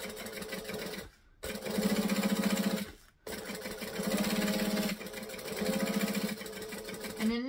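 Sewing machine top stitching along a raw fabric edge, running in steady buzzing bursts separated by brief pauses where the needle stops to pivot.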